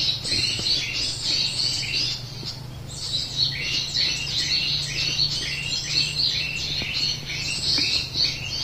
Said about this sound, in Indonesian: Burungnya beneran ribut di kayu pulut.